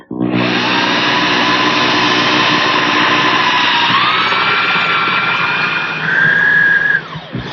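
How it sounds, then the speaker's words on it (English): A power drill with a 16-inch long bit bores through a wooden Windsor chair seat, giving a loud, continuous whine that shifts pitch slightly under load before spinning down at the end. "I'm using a 16-inch long bit, and I like to use a stick of wood as a guide once again."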